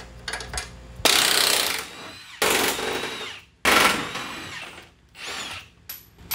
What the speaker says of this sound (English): You just remove every bolt that's holding them on.